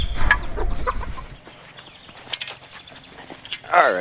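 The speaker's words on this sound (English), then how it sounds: "There's the big flock. They're all happy too, scratching." Backyard flock of chickens clucking and scratching around the ground, with several sharp clucks and rustling over low handling noise near the start and a louder squawk near the end.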